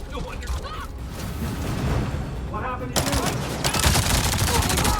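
Gunfire in Avatar: Frontiers of Pandora comes as sustained bursts of rapid automatic shots with a busy mechanical rattle, growing denser and louder partway through, while a voice talks over it.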